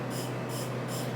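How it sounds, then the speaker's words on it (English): Perfume is sprayed straight into a small decant bottle, giving three short, soft hissing bursts at a regular pace over a steady low background hum. "I'm just going to spray it in"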